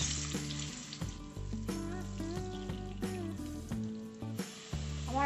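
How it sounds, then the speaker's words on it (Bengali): Potato pieces fry in hot oil seasoned with a little turmeric, giving a steady, close sizzle that runs the whole time under background music. "দিয়ে আলুগুলোকে ভেজে নেব।"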